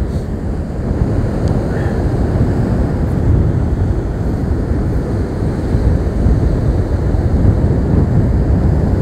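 Hurricane-force wind batters the seashore at Anapa, a loud, continuous roar of gusts buffeting the microphone, mixed with crashing surf; no voices are heard.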